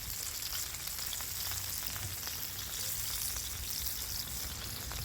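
Burger patties fry in butter on a hot Blackstone griddle, giving a steady, close, bright sizzle and crackle that continues without pause.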